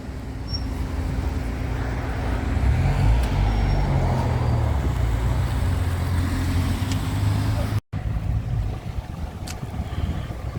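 Buses and coaches idle and rumble at an outdoor bus rally across a main road, a steady low engine drone with passing traffic noise and brief voices in the background.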